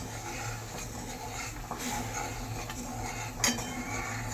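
A spoon stirs boiling dal in a pot, faint scraping and soft clinks over a steady low bubbling hum, with one brighter metallic tap near the end.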